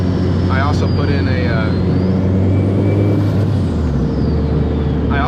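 Car engine heard from a GoPro in the engine bay ahead of street skids, a loud steady low rumble with rising and falling whine, with people talking over it.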